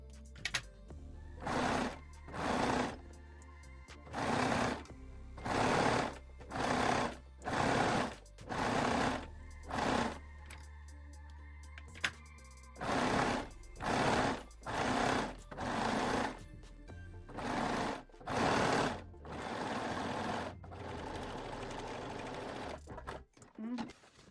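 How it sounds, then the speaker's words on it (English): A cover stitch sewing machine runs in repeated bursts, stitching elastic onto lace-backed panties, with roughly a dozen short, loud runs separated by brief pauses, close up and with no talking. "I will use my cover stitch machine today"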